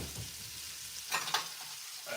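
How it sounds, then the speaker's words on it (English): Bacon frying in a pan is stirred, a soft sizzle running throughout with a couple of brief scraping strokes of the utensil near the end. "I need to stir the bacon."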